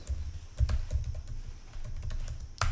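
Keys on a computer keyboard clatter in quick, uneven bursts of soft clicks, close and alone, with a brief pause in the middle.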